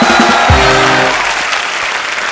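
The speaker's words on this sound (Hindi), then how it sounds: "जोरदार तालियां होनी चाहिए यार।" Studio audience on a comedy talk show breaks into loud, dense applause that fades slightly over a couple of seconds, with a brief low thump near the start and no speech.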